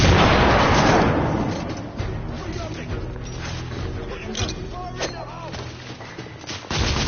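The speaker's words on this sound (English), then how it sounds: "Watch it! Grenade!" A grenade explodes in a combat video game, a loud, broad blast up front that rolls off into a long, rumbling tail, with scattered crackles and muffled voices continuing underneath.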